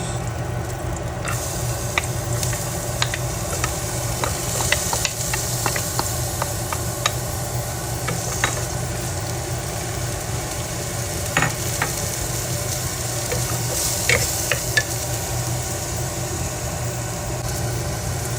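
Garlic and onion sauté in a pan with a steady, even sizzle and an occasional tap of a stirring utensil. A constant low hum sits underneath, close and continuous, with no talk.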